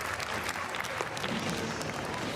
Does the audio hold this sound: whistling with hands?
no